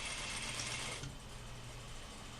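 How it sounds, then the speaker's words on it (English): Sewing machine running steadily while stitching a seam along a folded sleeve hem near a cuff, a continuous close mechanical whir that eases slightly in level partway through. "I'll continue stitching until I finish the whole seam"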